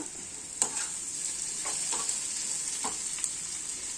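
Grated ginger, garlic and green chili sauté in a pan with a steady, close sizzle, broken by a few sharp scrapes and taps of a spoon stirring, and no talking.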